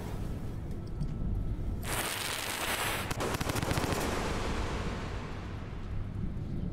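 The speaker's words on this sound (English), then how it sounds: "Can I throw firecrackers at it?" Firecrackers exploding in the video game Rain World, a loud, dense burst of crackling pops over steady game noise, strongest in the middle and then trailing off.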